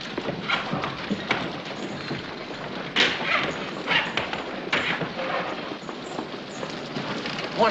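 A horse's hooves clip-clop at a walk on hard ground in a Western film scene, a steady rhythm of moderately close hoofbeats with some background noise and no clear talking.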